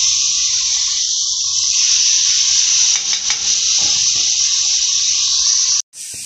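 Pork steaks sizzling steadily in a hot pan, a loud continuous hiss throughout, with a few soft clatters midway as they are flipped and a brief break near the end.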